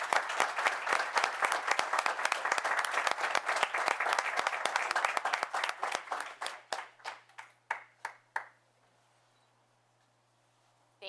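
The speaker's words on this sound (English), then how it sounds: "please give them a round of applause." Audience applause fills a town board meeting, steady dense clapping for about six seconds that thins into scattered individual claps and fades to quiet near the end.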